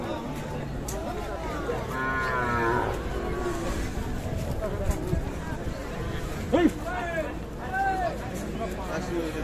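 Sahiwal calves mooing at the Ambari cattle market, several drawn-out moos at close and middle distance over a busy crowd murmur, with people talking throughout.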